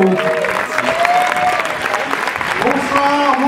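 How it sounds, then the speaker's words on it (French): Cinema audience in a large screening room applauding with steady, full clapping for about three seconds while voices talk loudly over it. "On les applaudit,"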